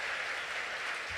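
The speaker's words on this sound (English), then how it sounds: "Let's give a round of applause for every small business owner in the room here" Applause from an audience of small business owners at a political event in Raleigh, a steady dense wash of clapping filling the short moment without any talk over it.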